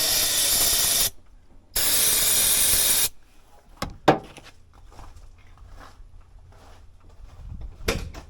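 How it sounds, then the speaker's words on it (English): An aerosol spray can hissing in two loud, steady bursts, one about a second long and a longer one after a short pause, sprayed into an engine while working on a truck, followed by quieter clicks and handling noises. "Let's try lifting these up and spraying it down in there."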